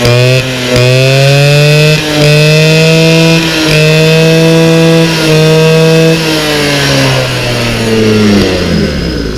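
Peugeot 103 MVL moped fitted with a Malossi Flûte Gold exhaust, its two-stroke engine held at a steady high buzzing rev with brief dips and rises, loud and close, no voices.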